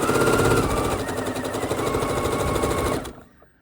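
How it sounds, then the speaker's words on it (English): A sewing machine stitches a fabric dart off the edge in a rapid, loud, steady mechanical chatter for about three seconds, then stops abruptly. "we want to make sure that we're sewing off"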